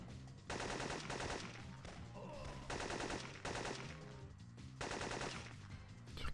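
Gunfire in the PlayStation game Syphon Filter, dense bursts of automatic fire in repeated loud volleys over game music, with no talking.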